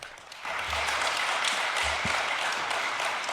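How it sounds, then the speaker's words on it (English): An audience applauds a speaker introduced at a cybersecurity talk on Active Directory hardening and defence, a steady, dense wash of clapping that starts abruptly and holds for about three seconds. "Big round of applause for James."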